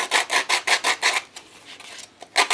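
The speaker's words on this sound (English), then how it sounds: "So sandpaper on all four sides gets rid of some of the overhang, if you will." Sandpaper rasps back and forth along the edges of a stack of paper pages in a handmade book, a close, steady run of about eight strokes, a brief quieter pause, then one more stroke, with no talking.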